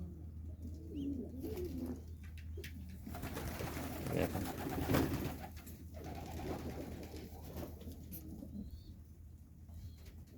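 Pigeons coo continuously in low, throaty rolls, several birds overlapping, with occasional light wing flutters and faint chirps nearby.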